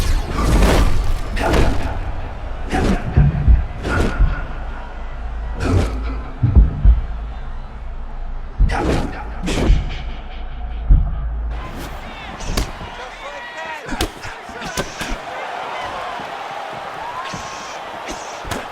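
Punches and kicks landing in EA Sports UFC 6 during a bout between Sodiq Yusuff and Ilia Topuria, a run of sharp thuds and slaps at an uneven pace, some clustered in quick combinations, with crowd and commentary underneath.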